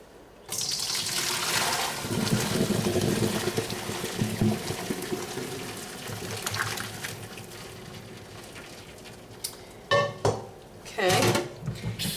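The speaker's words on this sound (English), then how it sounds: "do not look over the pan as you are dumping these into your colander" Boiled lasagna noodles and hot water poured from a pan into a colander in a kitchen sink, a rushing splash that tapers into trickling and dripping, followed by a few clanks of cookware.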